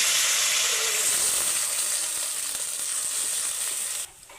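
A paste of ground sesame, peanuts and poppy seeds sizzles loudly in hot oil with spices, a steady broadband frying hiss that holds evenly, then drops away abruptly near the end.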